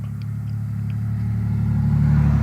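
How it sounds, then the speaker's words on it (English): A car drives past nearby, its low engine rumble and tire noise swelling steadily louder over a couple of seconds. "I was letting the car go by."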